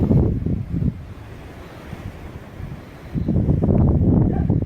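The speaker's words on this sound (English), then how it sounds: "it's very windy here, so I don't know how well this is going to sound" Strong wind buffets the microphone in loud gusts on a sunny day in Normandy, rumbling low, easing off in the middle and then surging again.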